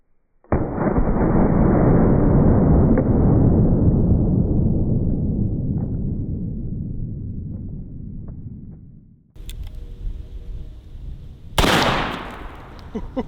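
An old cap-and-ball revolver fires a round lead ball into watermelons: one loud, booming shot with a long rolling echo that fades over several seconds, then a second sharp report and a splattering burst near the end.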